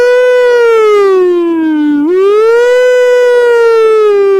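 An emergency vehicle siren wails loudly and continuously, a strong tonal sweep that dips and then rises again, heard alone with no talking.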